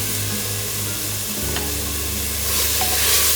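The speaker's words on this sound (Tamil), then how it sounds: "இப்போ தக்காளி சேர்த்துக்கிறேன். தக்காளி கொஞ்சம் வதங்கினதுக்கப்புறம் புதினா கொத்தமல்லி சேர்த்துக்கலாம்." Tomatoes sautéing in a pot of oil for veg biryani give a steady close sizzle and frying hiss, with a low hum underneath and a few light stirring clinks.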